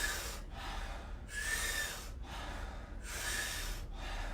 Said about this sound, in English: this powerful breath invocation called the Wim Hof breath